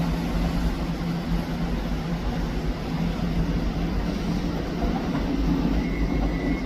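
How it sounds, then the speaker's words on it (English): A Scotrail class 385 electric train, unit 385113 on a Glasgow Queen Street service, rolls past at Edinburgh Haymarket station with a steady low rumble and wheel noise, continuous and fairly close, without voices. "The rear of the Glasgow Queen Street service is 385113."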